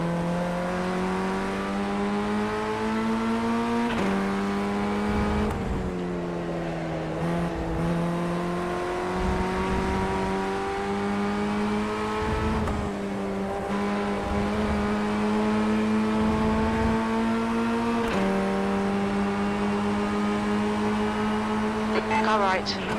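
Formula Ford 1600 open-wheel race car in the iRacing simulator at Laguna Seca, a loud buzzing engine drone climbing in pitch through each gear, dropping sharply at upshifts and braking, with a driver and spotter talking throughout.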